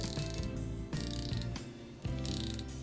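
The bezel of a Reverie 40mm watch is turned by hand, giving rapid runs of crisp, close mechanical clicks in a few separate bursts with short pauses between.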